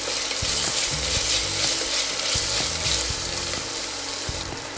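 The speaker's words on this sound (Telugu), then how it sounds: "1 స్పూన్ అల్లం వెల్లుల్లి పేస్ట్ వేస్తున్నాను. ఒకసారి కలుపుకుందామండి." Ginger garlic paste frying in a pan while being stirred, a steady loud sizzle with the spoon scraping and tapping at an uneven rhythm, close and continuous with no talking.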